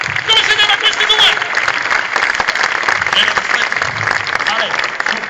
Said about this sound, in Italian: Signori e signori, fate un applauso!